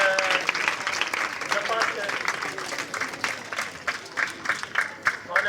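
Students applaud classmates who have just finished a reading on halting deforestation: dense, steady clapping fills the room throughout, with a voice speaking over it near the end.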